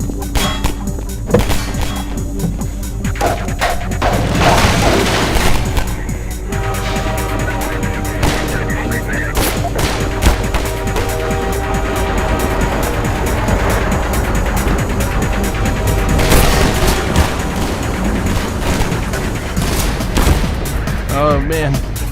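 Gunfire aimed at the player in Half-Life 2, dense crackling shots and impacts layered with game music and effects over the whole stretch, loud and continuous, with someone talking over it.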